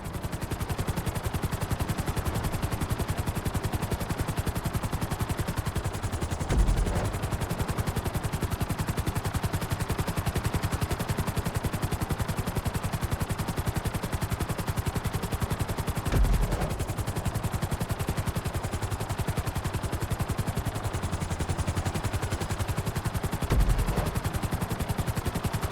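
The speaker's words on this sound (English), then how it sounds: "Bring the helicopter down gently onto the helipad." A helicopter in Grand Theft Auto V hums with a steady, dense rotor and engine drone that carries on without a break, punctuated by a few faint thumps.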